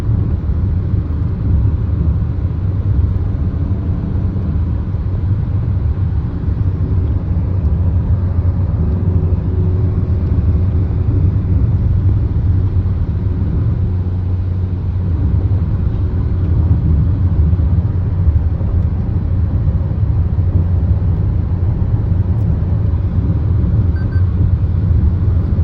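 Steady low road rumble from a car cruising along the Samruddhi Mahamarg expressway, a continuous loud drone with broad tyre and wind noise that holds even throughout, with no voices.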